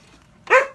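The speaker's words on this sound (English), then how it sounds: "Sorry about the dog." A single sharp dog bark, close and fairly loud, after a quiet lead-in.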